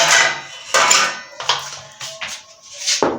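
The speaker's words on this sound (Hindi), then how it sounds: "अभी कुकर को बंद कर देंगे" A metal pressure cooker lid is fitted and closed on a pot of kidney bean curry, giving several sharp, close metallic clanks and scrapes with short pauses.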